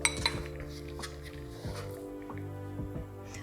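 Cream cheese and spring onions stirred in a pot, the spoon knocking and scraping against the sides in several clinks and taps over a low kitchen hum, close by with no talking.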